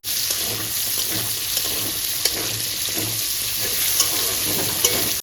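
Chandramukhi potatoes, pre-seasoned with turmeric and salt, frying in oil on a very low gas flame, a steady dense sizzle with occasional light stirring taps, close and continuous.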